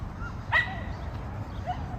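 Dogs on an Upper West Side street in New York City give a short yip or whimper-like bark, fairly close, over steady outdoor city hum.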